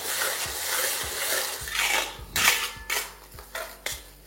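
Ginger-garlic paste and a little green chili get stirred into frying onions in a pan. A spoon scrapes rhythmically against the metal over a dense sizzle, close and fairly loud, with no voices.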